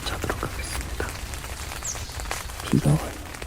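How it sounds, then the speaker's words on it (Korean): Rain patters steadily on the outside of a tent on an uninhabited island, heard from inside as a close, dense drumming, with a few heavier thuds near the end. "갑자기 비가 와서 바로 텐트 안으로 피신했습니다."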